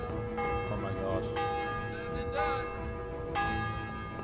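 A church bell rings in Kingdom Come: Deliverance, with a couple of clear resonant strikes whose long humming tones linger under background game noise.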